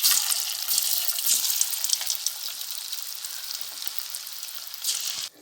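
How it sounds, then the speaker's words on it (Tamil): Cauliflower pakoda deep-frying in hot oil gives a steady, bright sizzle that crackles continuously from start to finish, close and fairly loud, with no voices over it. "இப்போ இதே மாதிரி எல்லாத்தையும் பொரிச்சு எடுத்துக்கலாம்"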